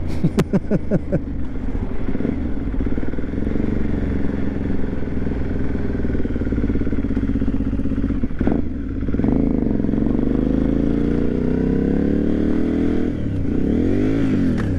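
An Aprilia Shiver 750 motorcycle rides along with a steady, loud engine drone heard from close by, rising in pitch as it accelerates and revs through the later stretch, with a brief dip midway and no talking.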